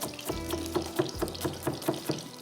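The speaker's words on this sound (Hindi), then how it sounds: "जब तक मिर्चें थोड़ी सी फ्राई हो रही हैं" Black peppercorns, garlic cloves and onion fry in hot oil, a steady broad sizzle under a string of evenly spaced scraping clicks from stirring, close and moderately loud, with no voices.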